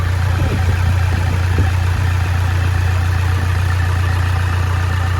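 A Toyota Innova diesel engine idles at a steady low rumble throughout, near and constant, with its valve cover reported to be venting heavy vapour from suspected worn piston rings.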